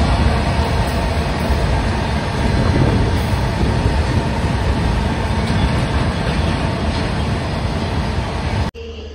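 Steady, loud rumble of a train at a railway station in Akola, a continuous broad roar with hiss on top that holds for the whole stretch before cutting off abruptly near the end.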